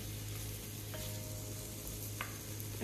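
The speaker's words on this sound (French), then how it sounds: "Les oignons chantent. Vous les entendez chanter dans la marmite?" Onions fry in a pot with a steady, close sizzle and constant crackling hiss, a few soft clinks of a utensil against the pot, no voices.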